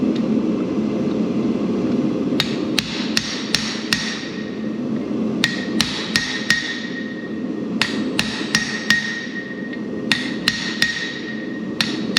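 Hammer blows on hot metal at an anvil while forging blacksmith V-bit tongs, struck in quick clusters of sharp ringing hits with short pauses between, close and loud over a steady forge roar.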